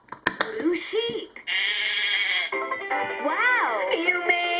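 LeapFrog Farm Animal Mash-Up toy plays a recorded sheep bleat, a loud wavering baa that repeats close by, after brief electronic toy voice and chime sounds.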